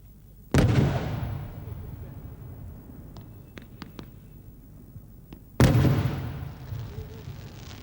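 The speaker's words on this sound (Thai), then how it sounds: "นี่คือความสวยงามและความพิเศษของพลุ ไซโก้เฉลิมฉลองการจนาพิเศษครั้งนี้นะคะ" Fireworks burst in layers at a Thai royal celebration: two loud booming explosions several seconds apart, each trailing off into a crackling, fading tail, with faint pops in between.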